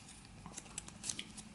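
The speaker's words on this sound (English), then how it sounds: "make cut some pieces of sandpaper using a nasty old pair of scissors" An old pair of scissors cuts pieces of sandpaper in a quiet workshop, giving a few faint, close, dry snips and scrapes with no talk.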